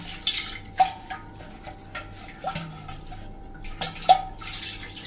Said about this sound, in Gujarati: આપણે એને ફેરવી નાખવાનું છે, મીઠાવાળું પાણી આખા માટલામાં આવી રીતે